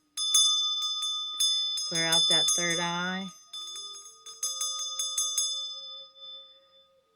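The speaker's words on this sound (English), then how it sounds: "We're going to ring our Dorji bell." A Dorje bell rings with repeated bright metallic strikes and a long shimmering ring, close and clear, while a person speaks briefly partway through.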